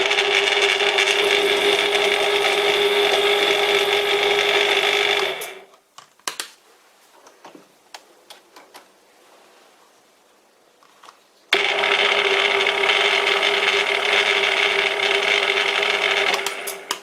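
A vintage lathe turns metal with a tool bit, a loud steady whirring machine tone that stops for several seconds of quiet clicks and handling, then starts again.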